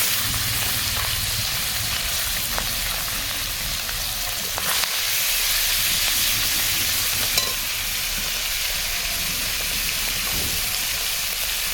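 Stinging catfish frying in hot oil in a rural Indian village kitchen gives a steady, dense sizzle that runs loud and unbroken throughout, with a few faint clinks and stirs but no talking.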